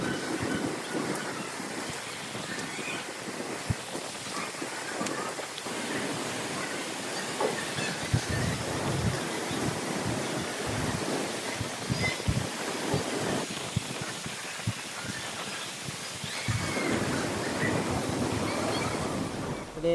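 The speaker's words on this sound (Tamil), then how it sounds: "அப்படியே பெங்களூரில் மழை வந்துச்சு பாருங்க கைஸ்." The first rain of the season falling in Bangalore, a steady broadband wash of rainfall with some wind noise, continuous and fairly loud for the whole stretch, with no voices.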